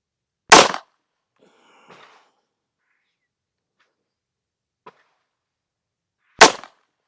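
A pistol fitted with a red dot sight is fired outdoors during zeroing: two loud, sharp shots about six seconds apart, with faint small clatters in the quiet gap between them.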